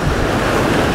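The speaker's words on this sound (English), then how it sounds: "That was a big wave." A big ocean wave crashing against a surfside jetty, a loud, steady roar of surf and wash with wind buffeting the microphone, filling the whole short moment without any voices.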